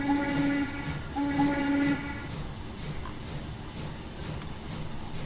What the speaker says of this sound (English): there's the hissing sound because we've reached maximum steam pressure